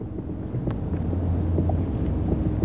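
Wind blows across a golf course on Cape Cod as a steady low rumble buffeting the microphone, continuous and fairly loud throughout the short stretch.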